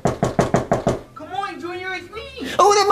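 A door is rapped with six quick, evenly spaced loud knocks, then a voice speaks immediately afterward.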